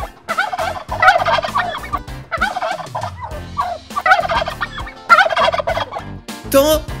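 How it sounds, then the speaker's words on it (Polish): Turkey gobbling loudly and close in repeated rapid bursts, several gobbles separated by short pauses. "Indyk gulgocze."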